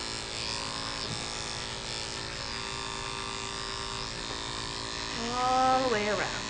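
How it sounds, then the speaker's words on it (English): Electric clippers buzz steadily while shaving a Schnauzer's tail at a grooming shop, a close, continuous hum with a brief louder tonal whine near the end. "So you shave the tail all the way?"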